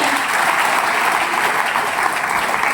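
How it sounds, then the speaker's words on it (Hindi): Students at a World Suicide Prevention Day session applaud themselves: a dense, even wash of clapping from a sizeable audience, loud and sustained for the whole stretch with no talking over it. "ताली बजाओ अपने लिए।"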